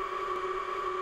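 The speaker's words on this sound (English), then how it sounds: "This is the sound of the site emergency alarm." A steady electronic site emergency alarm at a UKAEA facility, holding two sustained tones at constant loudness, close and alone with no talking.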